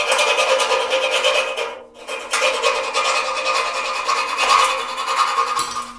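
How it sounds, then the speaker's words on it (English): An old, dulled hand file rasps back and forth to widen a hole during a snowmobile trailer build, giving close, continuous scraping strokes with one brief pause; no talking. "this old file is what I used to widen this hole out"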